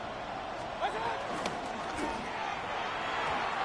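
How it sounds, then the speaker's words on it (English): A football stadium crowd roars steadily on third down, a broad continuous wash of cheering with faint voices rising above it. "The crowd making their presence felt."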